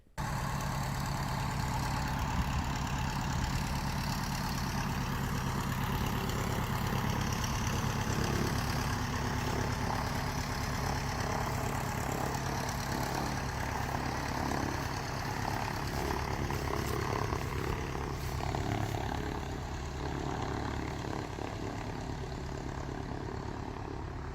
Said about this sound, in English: somebody got in their float plane and just taxied off down to have a little jaunt in the float plane